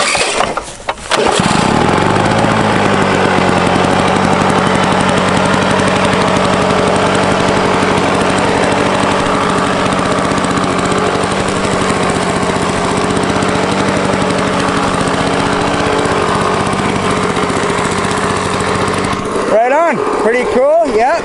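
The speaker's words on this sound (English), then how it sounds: "Wow, it's an old lawn boy, it's 2-strokes." An old Lawn Boy two-stroke lawn mower starts and runs steadily, a loud close buzzing engine drone that lasts nearly the whole time, then cuts out near the end as a voice speaks.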